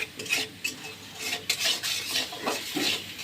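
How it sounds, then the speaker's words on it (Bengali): Chili powder and spices stirred in a pan while cooking an eggplant and potato curry: a spoon scrapes and knocks against the pan in irregular strokes over a soft sizzle, close and clear. "1/2 চামচ মরিচের গুঁড়ো দিয়ে একটু নেড়ে চেড়ে নিচ্ছি।"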